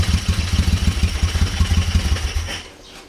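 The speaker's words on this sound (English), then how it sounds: "Just ticks over, beautiful. It's a lovely little engine." A Moto Guzzi V35 motorcycle engine idles with an even, lumpy rhythm of low exhaust pulses, close by, fading out at the very end.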